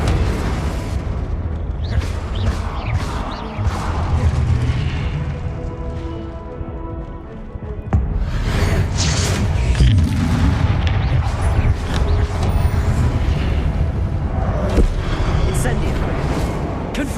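Repeated Confringo and Incendio spell blasts in the Hogwarts Legacy video game, loud booming bursts and crackling fire layered densely over a constant rumble of game sound for the whole stretch, with a voice calling out over them.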